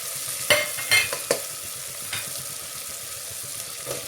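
Chopped onion and tomato, seasoned with turmeric, hit the pan for masale bhat with a few sharp bursts of sizzle early on. A continuous hiss of frying follows, close and unbroken, with no talking.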